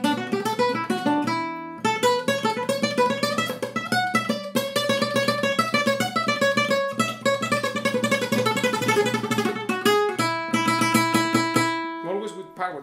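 Flamenco guitar playing rapid picado runs with rest strokes: a dense, continuous stream of bright, forceful single notes, loud and close, with a brief pause near the start and a sustained ringing note at the end.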